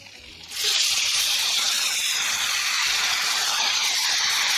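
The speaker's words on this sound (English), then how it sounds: "add your yellow onion, your chopped Anaheim, and your chopped tomato." Yellow onion, chopped Anaheim pepper and chopped tomato drop into a pan of hot butter, setting off a sudden loud, steady sizzle that holds at full strength with no talking.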